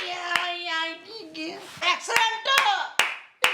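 A few sharp, close hand claps at irregular intervals during a carrom board game at home, interleaved with a child's and others' speech.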